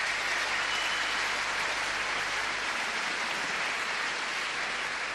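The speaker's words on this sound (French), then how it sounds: "Un tonnerre d'applaudissements pour Monsieur Julien Seri." A large arena audience at a martial arts festival gives a dense, loud, continuous round of applause for a guest at a jubilee event, the clapping steady and unbroken for several seconds.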